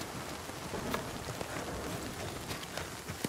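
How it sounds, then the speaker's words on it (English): Hail and rain falling in the Nightingale video game, a steady hiss of rain with scattered sharper ticks of hailstones hitting surfaces, even and moderately quiet throughout, no talking. "Oh no, it's hailing."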